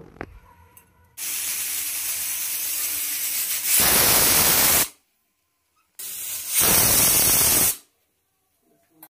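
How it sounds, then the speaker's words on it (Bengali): A pressure cooker holding marinated mutton lets off two loud, sharp steam whistle bursts, each a roaring hiss lasting about a second, the first preceded by a longer, softer steady hiss, with silence between and after. "চারটে সিটি হয়ে গেছে, এবার নামিয়ে রেখে দেব।"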